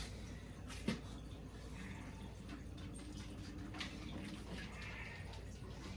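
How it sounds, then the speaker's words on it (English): Water poured into a pot of sauerkraut until it just covers the top, making a steady, soft splashing and trickling stream with a small clink near the start. "you're just going to put enough water so that there's a little bit water at the top of the sauerkraut"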